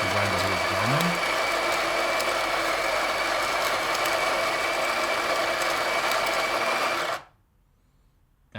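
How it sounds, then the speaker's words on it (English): Built-in grinder of a Meraki espresso machine grinding coffee beans, a loud steady whir with a brief higher motor whine at the start, running for about seven seconds before cutting off into near silence. "The grinder here is grinding."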